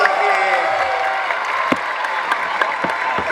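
Audience applause at an Islamic religious gathering celebrating the Prophet's birthday, a steady wash of clapping from a crowd with voices talking over it throughout.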